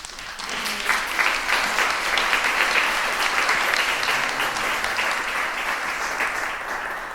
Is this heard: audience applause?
yes